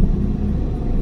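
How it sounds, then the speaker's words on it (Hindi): A car's engine gives a steady, close, low rumble for about a second, running evenly with no voices heard. "भाई गाड़ी स्टार्ट कर लो आप एक बार।"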